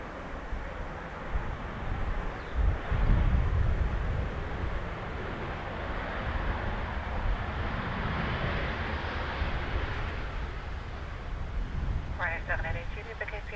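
An airliner landing at Dublin Airport, heard as a broad, steady jet roar that holds through the whole stretch, with a voice talking over it and a brief radio-like chirp near the end.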